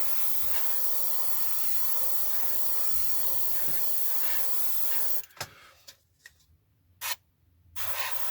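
An airbrush sprays dark paint along masking tape on a Kinetic 1/48 scale F-104J Starfighter model kit, a steady close hiss for about five seconds, then short bursts separated by pauses.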